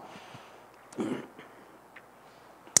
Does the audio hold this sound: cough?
yes